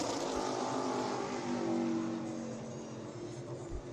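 Stock race car screaming around Five Flags Speedway in Pensacola during a qualifying lap, a steady loud engine drone with shifting harmonics that eases slightly toward the end, no talk over it.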